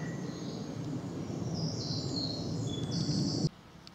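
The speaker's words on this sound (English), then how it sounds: "There's the old black cap." A blackcap sings in English woodland in June, its high warbling phrases clear over a steady low rumble of distant background noise before the sound cuts away.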